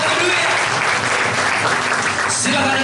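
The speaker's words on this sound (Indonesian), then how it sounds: "sama-sama katakan tepuk tangan buat Tuhan kita" A church congregation at an Easter service applauds in a loud, dense, sustained clatter of many hands that lasts throughout, with a voice faintly mixed in.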